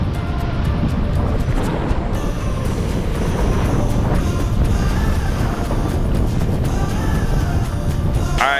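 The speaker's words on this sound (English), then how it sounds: "this, what you're hearing, the Deadwood Dam" Water rushes loudly and steadily at the Deadwood Dam on the Deadwood Reservoir in Idaho forest, a dense, unbroken roar with buffeting wind noise throughout.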